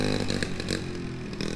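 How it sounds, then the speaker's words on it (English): A small Honda motorbike engine revving nearby, a loud, buzzy, steady drone with slight rises and dips across a short stretch. "Josh brought his little Honda."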